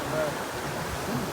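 A waterfall in Nikko rushes in a steady, broadband wash of flowing water, moderately loud and continuous, with faint voices underneath.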